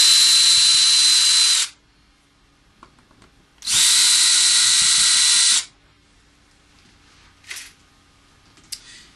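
Power drill driving out the two control plate screws on an electric guitar, in two loud steady whirring bursts of about two seconds each, followed by faint clicks and handling noise.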